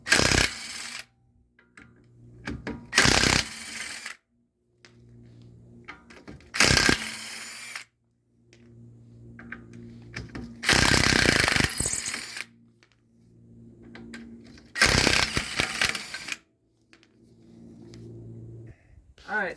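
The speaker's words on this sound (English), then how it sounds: "I strongly suggest having an impact driver" An impact driver removing 19 mm rear suspension bolts, several loud rattling hammering bursts separated by quieter gaps with faint clinks, close and harsh.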